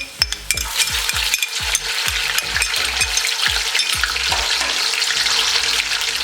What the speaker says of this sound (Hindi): अब इसमें अदरक लहसुन का पेस्ट डाल देंगे।